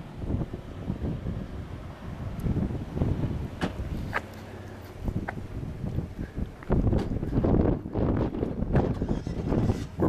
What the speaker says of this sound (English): Rather windy up here.